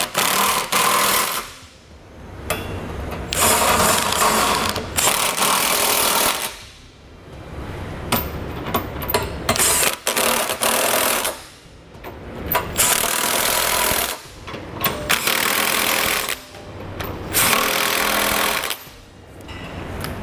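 A ratchet tightens the bolts of a Curt trailer hitch receiver on a 2017 Chevrolet. It runs in loud, close, buzzing bursts of a few seconds each, broken by short pauses, across the whole stretch.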